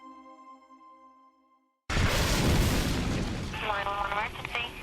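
A sudden loud explosion in a true crime reenactment bursts in after a quiet stretch of faint tones, followed by a sustained roaring rumble with a wailing siren-like sound rising over it.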